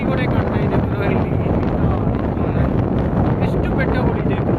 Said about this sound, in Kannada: ಇದೊಂದು ಮರ ಹೆವಿ ಗಾಳಿ ಹೊಡಿತಾ ಇದೆ